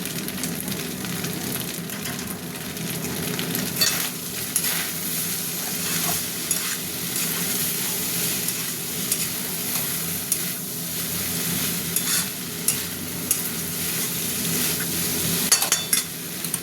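Mixed fried rice is stirred and fried in a pan after a sprinkle of fried-rice spice, giving a steady close sizzle with repeated scraping stir strokes throughout and no talk.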